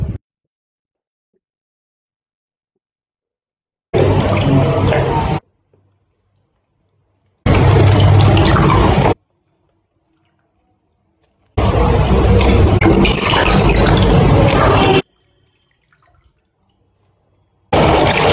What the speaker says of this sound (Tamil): இப்போ இதை 3 தடவை நல்லா கழுவிக்கிறேன்.